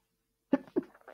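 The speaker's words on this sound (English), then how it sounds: "I guess I didn't have time to pause it for the sneeze" A single sneeze during a classroom lecture bursts out close and sharp after a moment of silence, followed by a short second expulsion and faint breathy sounds.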